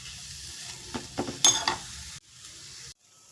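Carrot tempering sizzling in a pan, a low crackle followed by a short burst of louder sizzling and scraping, close by, cut off abruptly into near silence.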